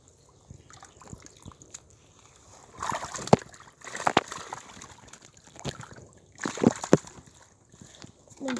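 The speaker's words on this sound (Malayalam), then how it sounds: "നമ്മളൊരു വല എടുത്ത് ഇതിലത്തെ മീനുകളെയൊക്കെ കോരി പിടിക്കാട്ടോ." Water sloshes and splashes in bursts as a net scoops fish out of a drained backyard pond, with quiet trickling and dripping between the scoops.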